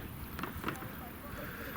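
Steady wind rushing over open water with a broadband wash and faint lapping of waves, continuous and fairly close, no clear voices.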